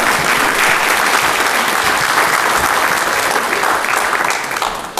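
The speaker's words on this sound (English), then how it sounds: "You can clap, it's okay." Loud, dense clapping from a university event audience welcoming a presenter to the stage, a steady roar of hands that holds for about five seconds before tapering off at the end.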